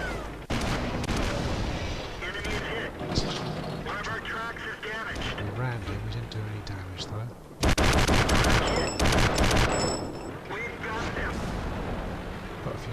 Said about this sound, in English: And indeed, there was their artillery.